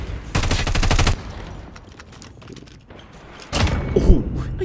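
Rapid bursts of automatic fire from an MK9 gun in Call of Duty Mobile, with two loud volleys separated by quieter game sounds.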